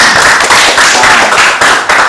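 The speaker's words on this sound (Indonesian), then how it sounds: "Iya, tepuk tangan dulu." Loud, close studio clapping on an Indonesian talk show, a dense run of hand claps with slight pulsing bursts, no voices over it.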